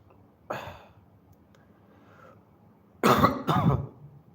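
A single cough, then a pause, followed by two harsh coughs in quick succession, close by and fairly loud.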